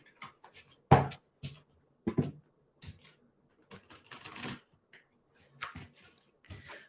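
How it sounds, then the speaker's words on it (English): Tarot cards shuffled by hand, giving a series of soft, crisp riffling bursts and flicks spread irregularly over several seconds, close and fairly quiet, with no talk. "Oh, I just need to give the cards a bit of a better shuffle."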